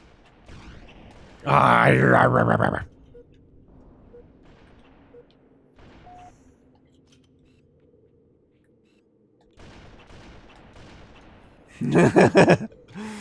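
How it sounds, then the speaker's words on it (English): Sniper rifle fire during a Halo: Combat Evolved custom multiplayer match, with loud close shots and bursts of gunfire near the start and end and quieter game ambience between. "It's funny to see sniper rounds just flying everywhere."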